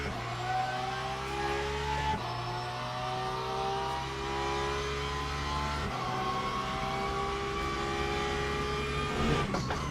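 Racing car engine in the sim game Le Mans Ultimate, a continuous droning whine with steady harmonic tones that drop abruptly at gear shifts and climb again, loud and alone.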